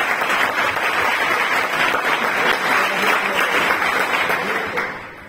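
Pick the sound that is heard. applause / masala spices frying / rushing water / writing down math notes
applause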